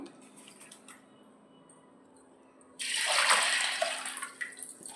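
After a quiet moment, water is poured steadily over soaked horse gram in a container, a loud gushing that gradually tapers off.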